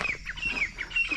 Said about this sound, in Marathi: बघा कशा पक्षी कोकतात.